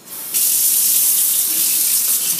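Hot water runs from a kitchen tap for beef bouillon stock, a steady close hiss and splash that starts abruptly and flows on without talk.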